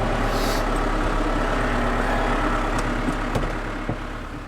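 A farm tractor engine idles steadily at close range on a frosty morning, a constant low rumble with a couple of faint clicks near the end.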